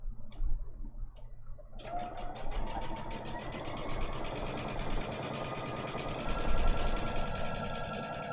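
A sewing machine runs a quarter-inch seam along a folded row of a butterfly pixel quilt. After a quiet start it whirs steadily and close for several seconds, with a rapid needle ticking.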